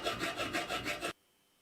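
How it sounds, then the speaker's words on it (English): A metal file rasps along the edge of an iron square tube in several quick back-and-forth strokes, a gritty rhythmic scraping that stops abruptly into near silence. "The edge of the iron square tube is filed"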